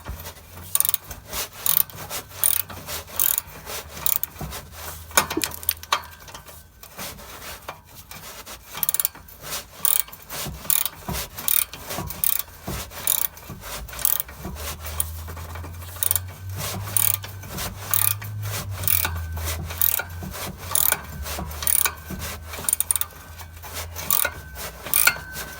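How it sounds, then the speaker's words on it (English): Hand wrench working loose the bolts of a Borla catback exhaust on an Acura RSX in a home garage, with repeated close ratcheting clicks in rhythmic bursts over about twenty-five seconds, without speech. "So just hold your wrench there and crack it loose."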